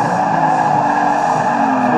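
A car drifting in a driving simulator, sliding on inertia without the handbrake, its engine droning loud and steady with tire squeal woven through the whole stretch.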